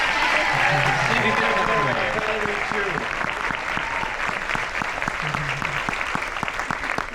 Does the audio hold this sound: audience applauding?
yes